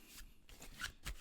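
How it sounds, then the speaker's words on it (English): A brief burst of close card shuffling, a few soft riffling snaps in quick succession, quiet and without speech. "I'm trying to keep this deck as smooth as possible in the way I shuffle it."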